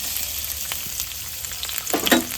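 Finely chopped onion fries in hot white vegetable oil, a soft steady sizzle that swells into a louder, crackling burst near the end as the pieces are stirred.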